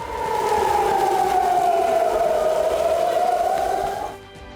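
An air raid siren wails in Hadera, Israel, one loud sustained tone slowly sliding downward for about four seconds before cutting off, with faint background noise underneath.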